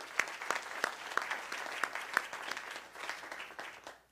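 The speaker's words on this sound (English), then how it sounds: "Just a round of applause for everyone." An audience at a scientific research meeting gives a round of applause, with sharp individual claps standing out over a steady, fairly close crowd clapping throughout.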